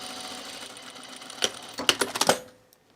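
A sewing machine back stitches on blouse fabric, a short burst of quick mechanical clattering stitches after a quieter lead-in, close and alone.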